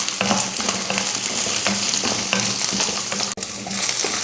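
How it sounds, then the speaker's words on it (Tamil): Onion, garlic, ginger and coconut fry in hot oil in a kadai with a loud, continuous sizzle, broken by a steady rhythm of stirring scrapes close by; no voices. "கடாயில் எண்ணெய் ஊற்றிட்டு இப்போ வெங்காயம் வெள்ளைப்பூடு இஞ்சி இதெல்லாம் வதக்கிடலாம் அது கூடவே தேங்காய் இதையும் வதக்கிடுவோம்"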